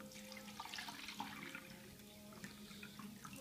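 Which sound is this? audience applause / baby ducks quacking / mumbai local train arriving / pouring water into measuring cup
pouring water into measuring cup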